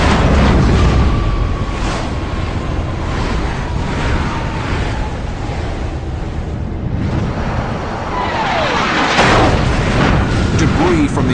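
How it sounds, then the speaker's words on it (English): A missile strikes a MiG-17 jet: a loud, sustained rumbling roar of the explosion with heavy low-end noise throughout, swelling again near the end, with voices faintly underneath. "Debris from the explosion takes down the MiG's wingman."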